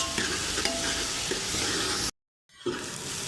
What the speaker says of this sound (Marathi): कांदा पूर्ण छान फ्राय करून घ्यायचा आहे लालसर होईपर्यंत कांदा आपण याच्यामध्ये भाजून घ्यायचा आहे